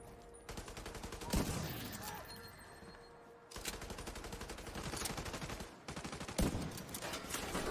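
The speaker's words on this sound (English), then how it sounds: "I can't shoot to save my life right now" Rapid automatic gunfire in The Division 2, firing in long sustained bursts with short breaks between them, fairly quiet overall with sharp louder shots standing out.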